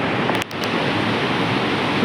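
The Ravi river flowing nearby, a steady broadband rush of water heard alone, constant and moderately loud with a brief dip partway through.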